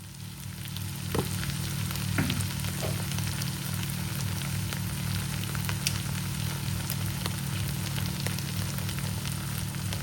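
Vegetables stir-frying with hot chili sauce for Thai fried rice, a steady, close, loud sizzle throughout with occasional scrapes and clinks of a utensil, no talking.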